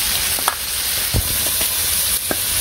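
Katla fish frying in hot oil in a village kitchen, a steady close sizzle and hiss with a few soft clinks and stirring knocks, no voices.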